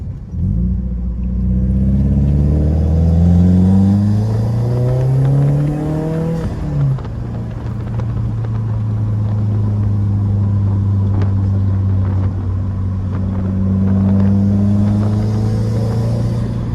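A Subaru WRX tuned with an intake, downpipe and equal-length headers accelerates hard, its loud engine note climbing steeply through the revs, dipping at a gear change, then pulling again in a sustained rumbling drone.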